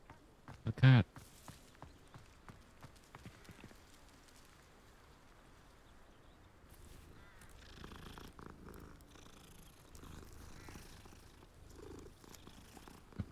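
A cat purrs in a wizard video game, a low soft rumbling that runs under faint rain-like patter and footsteps, with a sharp loud sound near the start and someone speaking over part of it.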